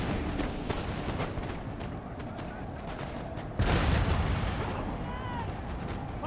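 Cannon fire in the Napoleon: Total War video game, distant booming shots scattered through a dense battlefield din of musketry and crowd noise, with a heavier blast midway.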